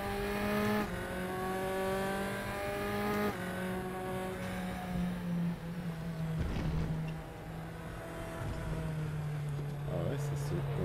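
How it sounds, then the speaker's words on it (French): A Formula 4 Tatuus race car accelerating hard in RaceRoom, its high, buzzing engine note climbing through two quick upshifts before settling into a steady drone at speed, with a voice talking over it. "Elle accélère vraiment très bien cette petite F4 Formule 4 du moins."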